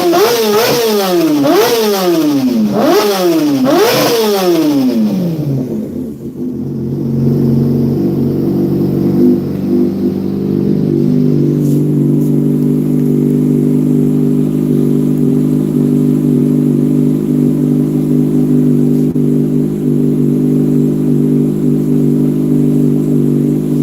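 A loud engine revs hard in neutral, out of gear, several sharp rising-and-falling blips at first, then settles into a steady, rumbling idle that runs alone with no talk.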